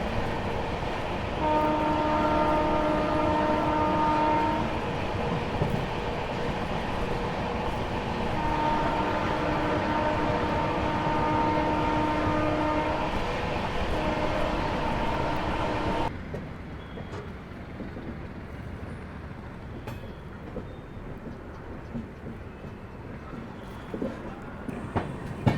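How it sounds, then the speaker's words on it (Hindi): The Amritsar Mumbai Express rolls slowly through Patiala Cantt station with a steady loud rumble and two long horn blasts. The sound grows quieter and duller partway through. "फिलहाल अपनी गाड़ी पटियाला कैंट स्टेशन को धीरे धीरे स्किप कर रही है।"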